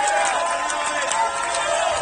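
Crowd at a squash match in Atlanta's professional league swelling in a steady roar of cheering and murmuring, loud and close, with a commentator talking over it.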